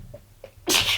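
A single loud sneeze bursts out near the end, preceded by a couple of faint sharp intakes of breath, close to the microphone in a quiet room.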